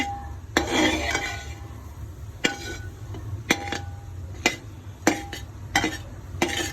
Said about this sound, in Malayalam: ജീരകവും കറുത്ത എള്ളും കൂടെ ചേർത്ത് ഏലക്കാപ്പൊടിയും പൊടിച്ചിട്ട് നന്നായിട്ട് വറുത്തെടുക്കുകയാണ്